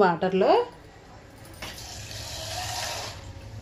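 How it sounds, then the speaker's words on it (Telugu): A voice speaks briefly, then water pours steadily into a container of grated potato, a soft continuous splashing rush that builds slightly toward the end. "వాటర్ వేసుకొని చూడండి"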